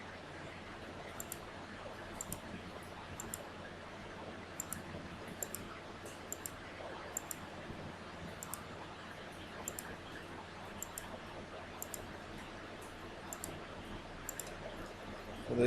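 Computer mouse clicks, quiet and close, sound in an irregular series of single and double clicks over a faint steady background hum while lines are trimmed on screen.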